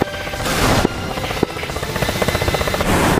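A military helicopter in the DCS World flight-combat game drones loudly and continuously, its rotor pulsing in a rapid, throbbing rhythm over a steady turbine whine, close and alone with no talk.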